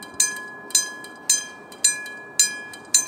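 A blue train passes in Finland, heard as a steady run of six sharp rhythmic clacks of wheels over rail joints about half a second apart, over a continuous electric whine.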